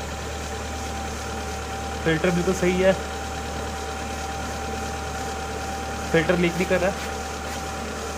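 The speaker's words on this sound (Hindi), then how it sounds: "अब स्टार्ट करते हैं गाड़ी को 10-20 सेकंड के लिए।" A Hyundai Santro engine idles steadily after an oil change, a low continuous hum with a faint tonal whine, while someone talks briefly twice over it.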